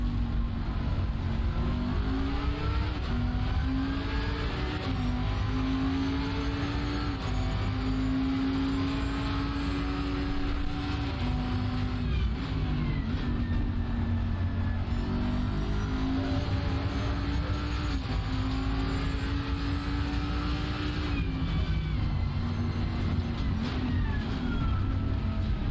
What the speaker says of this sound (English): this battle between Rosas and myself was just too fun, as we slowly start closing in on the number 159 Aston